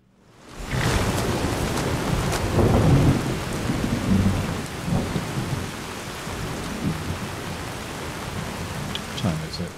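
Heavy rain and rolling thunder in a video game at night swell into a loud, steady downpour with deep rumbles. The storm then eases to a softer, continuous patter.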